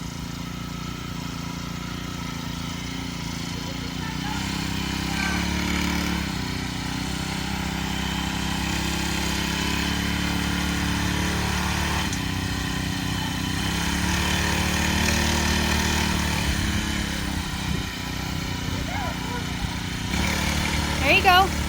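A small mini bike engine runs steadily for the whole stretch as a child rides it, a mid-pitched motor drone at moderate distance with slight rises and dips, while an adult talks over it giving riding instructions.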